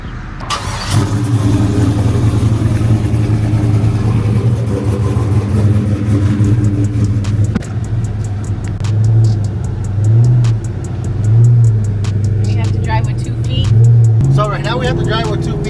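A 6.2 Cateye single cab truck idles and drives, its steady low engine drone continuous throughout, with several throttle swells later on, heard from inside the cab with talking over it.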